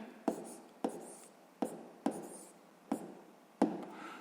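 A pen writing numbers on paper while doing math, six short scratchy strokes that each start sharply and trail off, evenly spaced in quiet surroundings.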